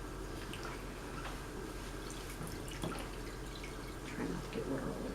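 Water splashing and dripping at a table as a skincare product is rinsed off, small wet squishes and drips over a steady background hum, fairly close.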